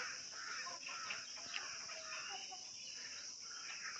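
Faint chickens cluck and murmur in the background over a steady high insect-like hiss on a Konkan morning, no talking, the birds sounding somewhat distant.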